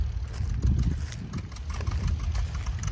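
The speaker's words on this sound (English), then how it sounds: "Now the next tractor to come along is I think it's my John Deere 730." A John Deere 730 tractor engine runs at a plow day, a steady low rumbling throb with close, continuous loudness and no talk over it.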